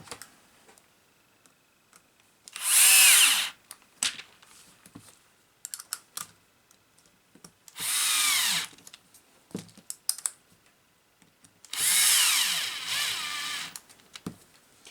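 A cordless screwdriver drives screws into the roll cage of an RC car in three loud whirring bursts. Quiet clicks and handling taps fill the gaps between them.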